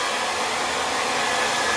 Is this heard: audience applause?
no